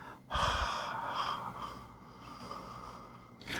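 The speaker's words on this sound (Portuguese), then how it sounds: "Aí você vai agora respirar, quer dizer, soltar o ar." A person breathing out, letting the air go slowly after a short audible intake; a soft, close, sustained airy exhale lasting a few seconds, with no talking.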